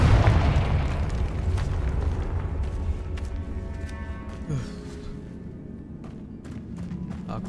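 A Confringo blasting curse in Hogwarts Legacy sets off a booming explosion at the start, then its rumble fades out slowly under a low game ambience.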